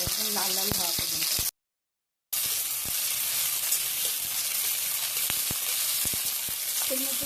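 Salted eggplant pieces fry in hot oil over a high flame, a loud, steady crackling sizzle close up with occasional sharp pops and utensil clinks, broken by a short silent gap.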